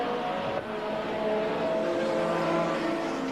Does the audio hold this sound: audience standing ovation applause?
no